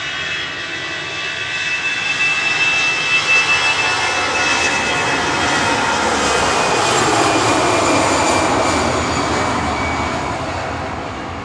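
An EasyJet Airbus A319 bound for Faro departs with a sustained jet-engine roar that rises and holds, filling the air as it climbs away from the airport.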